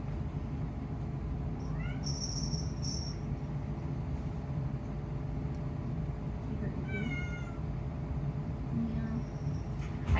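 A cat meows a few times at a distance, faint and brief calls over a steady background hum in a home kitchen, with no talking.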